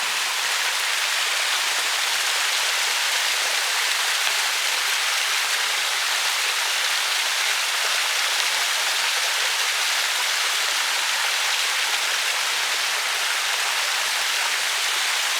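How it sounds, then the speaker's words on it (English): A small waterfall at Blowing Rock, North Carolina pours in a constant, dense broadband rush, steady and fairly close throughout with no talking. "So let's look at this nice little waterfall here before we go."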